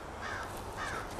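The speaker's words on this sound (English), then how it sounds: "I'm so half creeped out by all of the crows" Crows flocking and cawing, two drawn-out harsh caws in succession at moderate distance over steady outdoor background noise.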